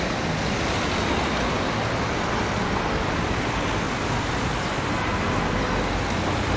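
Continuous road traffic on Timișoara Boulevard in Bucharest, a dense, even wash of passing cars and engines heard from the roadside, steady throughout with no talk.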